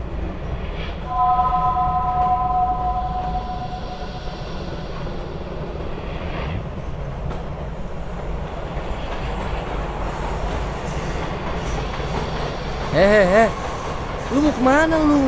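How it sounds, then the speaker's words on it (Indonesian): A train rolls along the rails toward Jakarta in a steady, loud, continuous rumble with metallic tones, and people talk over it near the end. "Berarti kereta ini mau ke Jakarta dong, Kay?"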